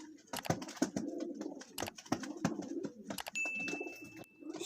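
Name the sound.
pigeons cooing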